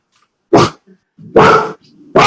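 A dog barks sharply three times at close range with short gaps, with faint whimpering sounds between the barks.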